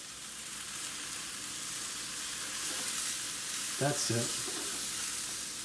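Regular white mushrooms sauté in a pan with a steady, even sizzle. Near the end a short spoken phrase sits over the frying.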